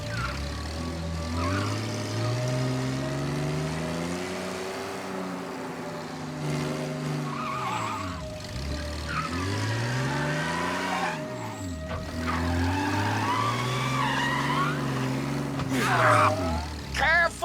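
A car in the video game Mafia drives with a steady engine drone whose pitch rises and falls as it speeds up and slows, with tire squeal and skidding in the turns, close and continuous with no talking.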